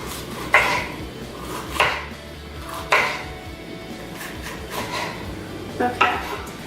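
A knife chopping vegetables on a cutting board for Et Sote, with about six sharp, evenly spaced cuts close up and quiet room noise between them.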